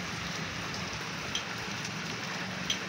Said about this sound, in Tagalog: Umulan na po, umulan na.